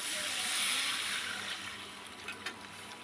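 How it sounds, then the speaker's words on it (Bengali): Water pours into a pan of Bengali curry with pea-lentil fritters, a steady broad rush that swells early, then eases into a softer trickle with a few small splashes near the end. "এবার বেশ খানিক জল দিয়ে দিলাম।"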